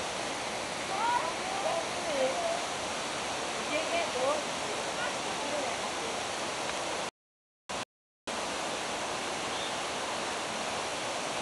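The Cachoeira das 3 Marias waterfall in Balsas, Maranhão, rushes as a loud, continuous broadband roar nearby, with faint voices and calls in the first seconds and a brief dropout in the middle.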